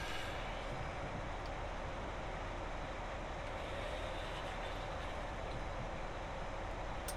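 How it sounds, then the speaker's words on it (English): Faint, steady rolling rumble of a train in Train Simulator 2018 running the Carlisle to Glasgow route, with soft creaks as it rounds a curve, continuous and distant. "Can you hear the train creaking as it goes round the corner"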